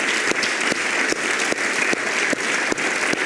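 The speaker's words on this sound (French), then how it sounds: "Et je crois que notre Seigneur mérite un bon applaudissement pour cela." A church congregation claps together during a service, steady dense applause with sharp periodic accents, loud and close, no talking over it.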